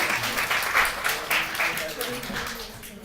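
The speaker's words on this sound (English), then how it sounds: "Round of applause" An audience at a talk on carbon emissions and architecture applauds a volunteer, a short burst of clapping with a voice speaking over it, moderately loud and tapering slightly.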